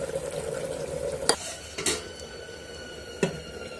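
Small-fish curry with chopped coriander is stirred in a pan, a soft background sizzle with three distinct metallic scrapes of a spoon against the pan.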